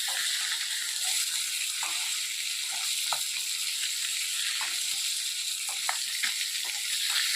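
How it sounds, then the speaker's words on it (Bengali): Bata fish frying in hot oil, a steady close sizzle that carries throughout with occasional sharper crackles and pops. "মাছগুলোকে খুব ভালো করে লাল লাল করে ভেজে নেব"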